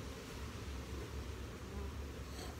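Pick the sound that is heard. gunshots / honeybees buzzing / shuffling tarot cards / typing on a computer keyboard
honeybees buzzing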